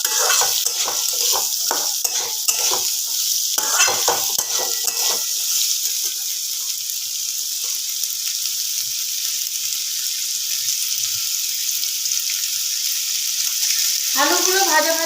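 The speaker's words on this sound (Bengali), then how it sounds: "এবার এটাকে একটু ভালো করে ভাজা করে নেব। গ্যাসের ফ্লেমটা একটু বাড়িয়ে দেবো, কারণ একদম কম আঁচে দিলে আলুগুলো ঠিক মতো ভাজা হবে না," Potatoes fry over a raised gas flame in a pan, a constant bright sizzle with scraping stir strokes and metallic clinks in the first few seconds, then an even hiss on its own.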